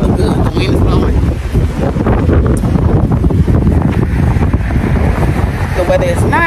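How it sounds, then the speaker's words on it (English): Steady wind buffets a microphone outdoors near the ocean in Condado, San Juan, Puerto Rico, a continuous loud low rumble throughout, with faint voices underneath. "The wind is blowing."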